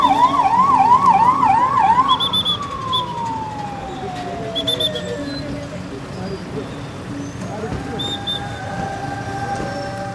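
Sirens of VIP security escort vehicles: a loud, fast-warbling yelp opens, then gives way to a long falling wail and a later rising tone, over road traffic noise with a voice faintly present.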